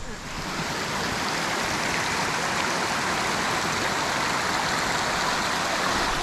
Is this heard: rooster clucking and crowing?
no